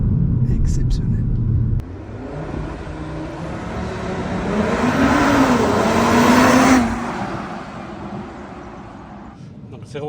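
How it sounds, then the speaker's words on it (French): A Cupra Formentor VZ5 launches under launch control, the engine note rising as it accelerates hard, swelling to a loud peak and then easing off, with someone talking over it. "on va l'essayer avec le launch control"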